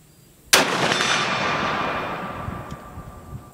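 Lyman Model 1878 Sharps carbine, 140th Anniversary Edition, fires one loud, sharp shot that rings and echoes away over about three seconds, with no speech.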